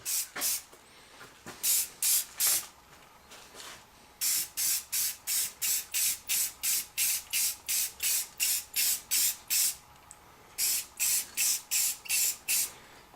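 A spray can coats red truck parts in rapid, regular bursts of hiss, about twenty short sprays in a steady rhythm with a few longer pauses, close by and with no talking.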